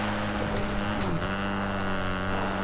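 A motorbike engine in Fortnite drones steadily and continuously at close range, with a brief rise in pitch partway through and wind rushing underneath, heard without talk.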